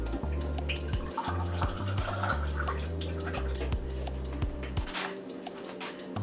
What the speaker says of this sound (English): I'm adding only a cup of water so I can give myself some talking time.